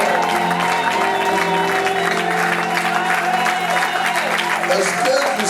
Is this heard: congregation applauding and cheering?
yes